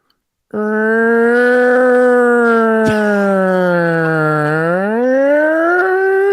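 A loud, sustained wailing siren, like a police car or ambulance, rises abruptly from silence and holds a steady harmonic tone that dips and swells slightly, close and alone without talk.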